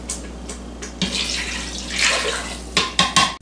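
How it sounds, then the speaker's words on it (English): Water pours from a container into an Instant Pot while ground beef pasta is being made, a steady splashing rush with a few clinks and knocks near the end. "Your water, which is 2 cups."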